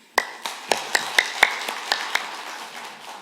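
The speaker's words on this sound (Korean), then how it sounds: "박수로 환영하겠습니다." A church congregation at a seniors' worship service claps to welcome a pastor, a sparse, slightly uneven run of about ten distinct claps in a reverberant hall that fades out after roughly two seconds.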